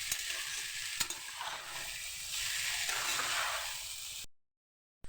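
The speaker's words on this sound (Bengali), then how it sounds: "দেখো কড়ার মধ্যে একটুও চিটছে না, কত সুন্দরভাবে ভাজা হয়ে যাচ্ছে।" Chowmein fries in a kadai with a bright, crackling sizzle and occasional stirring scrapes, moderately close, before the sound cuts out to silence near the end.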